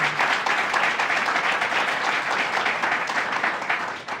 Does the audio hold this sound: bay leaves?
no